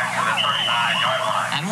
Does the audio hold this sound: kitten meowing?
no